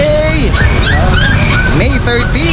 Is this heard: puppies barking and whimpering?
yes